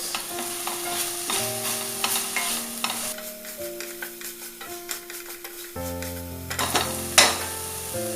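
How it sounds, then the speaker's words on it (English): Food stirred and frying in a pan while bottle gourd gravy cooks, a soft steady sizzle with scraping stir strokes running throughout at moderate level, and a faint clink near the end. "Give it a good mix."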